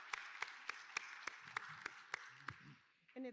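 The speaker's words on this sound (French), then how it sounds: "Applaudissons-les, s'il vous plaît." A conference audience claps in steady unison, about ten sharp, evenly spaced beats over a hum of cheering, then a voice briefly starts speaking.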